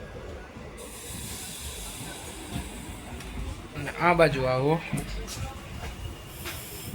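Inside a Veraval to Lushala passenger train with sleeper coaches, a steady rumbling hiss of the moving carriage runs throughout while a voice speaks briefly partway through.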